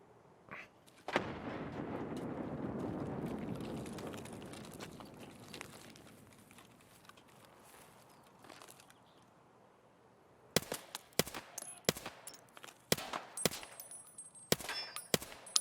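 Gunfire in Escape from Tarkov: a rolling, booming volley builds and fades over several seconds, followed by a tense lull, then a run of sharp, loud, close shots and clanging impacts in quick bursts near the end.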